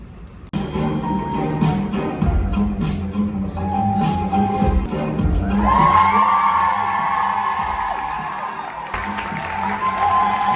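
A live show audience in a cruise ship theater cheers, whoops and applauds loudly and continuously, the crowd noise swelling and staying dense throughout.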